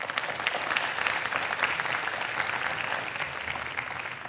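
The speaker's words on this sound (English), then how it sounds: "So if you can give them a round of applause." Sustained audience applause for panelists at a forum plenary session, even and fairly distant-sounding, a continuous wash of many hands clapping.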